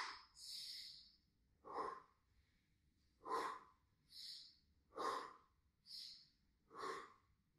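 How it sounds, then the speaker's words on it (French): Slow, audible breaths in and out during gentle exercise, close to the microphone, with soft airy inhales and exhales alternating in a steady unhurried rhythm and nothing else in the room. "On inspire ici, on expire quand on remonte."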